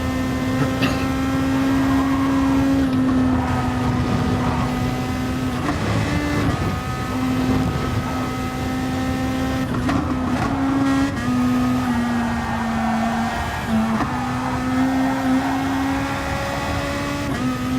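A race car engine roars steadily in a racing video game during an FIA Nations Cup race at Kyoto, its loud sustained note rising and dipping slightly through throttle changes, close and continuous throughout.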